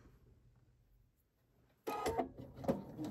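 A sewing machine starts up to sew fabric down on a quilted mug rug, a quiet hum first, then a sudden burst of rapid clattering stitching that continues close and loud.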